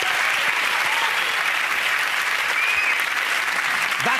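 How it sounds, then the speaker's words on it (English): Studio audience of a television comedy panel show breaks into loud, sustained applause, a dense steady wash of clapping with faint cheers that holds evenly from start to finish. "A round of applause to everyone involved."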